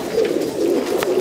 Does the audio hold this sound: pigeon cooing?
yes